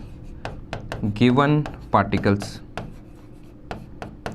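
Pen or marker taps and short scratchy strokes while notes are written during a chemistry lesson, sharp clicks spaced irregularly around someone speaking Hindi.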